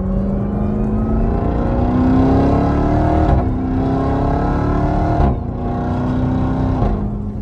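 Jeep Trackhawk SUV accelerating hard, its engine note climbing through several gears with brief dips at each shift, loud and close from inside or near the vehicle, with no talking.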